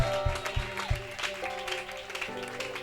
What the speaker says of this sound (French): Nous l'encourageons avec beaucoup des acclamations.